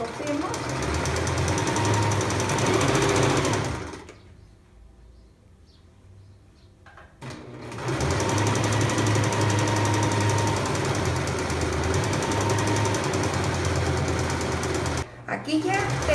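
A sewing machine stitches the shoulder seams of a simple dress in a fast, rattling run, stops for a few seconds and then resumes, with a brief pause near the end.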